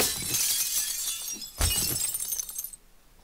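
Glass shatters in the video game 7 Days to Die. A bright crash of breaking glass sprays across the first part, a sharp thud follows, then tinkling shards fall and fade into near quiet.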